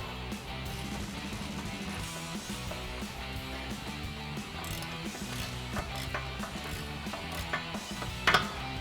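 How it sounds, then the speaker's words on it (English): Ratchet loosening bolts on adjustable front upper camber arms of a 2008-2023 Dodge Challenger, a rapid continuous metallic clicking that runs steadily throughout, close and moderately loud, with a sharp clank near the end. "You will need to loosen up all of your bolts, just enough to get some movement."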